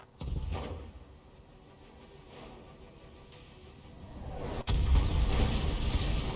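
Mech weapons fire in the BattleTech video game: deep, heavy booms at the start and again near the end, with a low rumbling tail between them.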